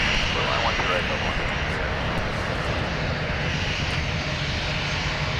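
Delta heavy jet airliner on landing approach at Minneapolis airport, runway 12 right, a loud steady engine roar filling the whole stretch with broadband rumble, tower radio chatter faintly underneath.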